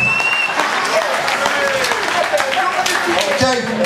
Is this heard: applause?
yes